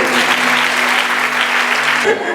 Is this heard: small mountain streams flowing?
no